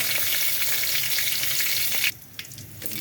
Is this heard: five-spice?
yes